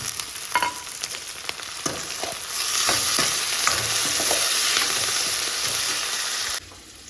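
Garlic, onion and tomatoes fry in a pan with a bright, continuous sizzle that swells midway, while a spoon stirs with intermittent taps and scrapes up close before the hiss suddenly drops.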